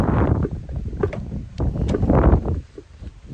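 Strong gusts of wind buffet the microphone in loud, uneven rumbling bursts at a campsite in Cornwall, with no talking.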